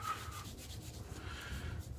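Shaving lather is rubbed into the face, a soft, continuous brushing and rubbing sound that is close and very faint, with no talking.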